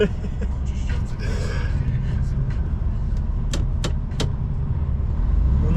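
Car traffic crawling in a Friday traffic jam in England, heard as a steady low engine rumble from inside a vehicle with a few light clicks and taps on top.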